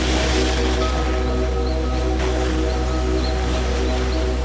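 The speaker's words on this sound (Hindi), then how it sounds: "पुष्पावती नदी की आवाज़ और भी ज़्यादा गूंजने लगी" Roaring Pushpavati river rushing among large boulders and tall rocks below a small bridge on the Valley of Flowers trek, a steady, loud, dense wash of water with a constant low rumble and no voices.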